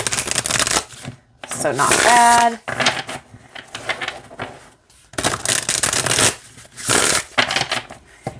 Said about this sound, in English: Show you how it shuffles.